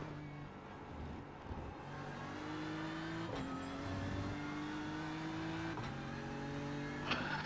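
BMW Hybrid LMDH prototype race car in iRacing at Le Mans, engine droning steadily with rising revs and sharp gear-change steps, close and continuous amid other race cars in a multiclass field.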